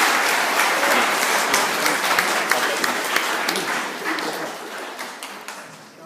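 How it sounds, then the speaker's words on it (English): A school audience at an end-of-year presentation day claps for award winners, a dense steady round of applause with sharp individual claps, fading slightly toward the end. "Give them all another clap, please, guys."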